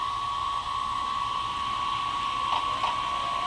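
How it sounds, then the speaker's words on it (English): A model electric locomotive's Tsunami2 sound decoder gives off a steady, faint whining traction motor hum with a soft mechanical undertone, running continuously without voices. "And you can kind of hear the hum of that traction motor sound as it comes up."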